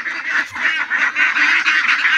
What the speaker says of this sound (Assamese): আজি মই হাঁহবোৰ কেনেকৈ থাকে, কেনেকৈ পানী খাইছে, কেনেকৈ দানা দিছোঁ, সেইবোৰকে দেখাম এই ভিডিঅ'টোত।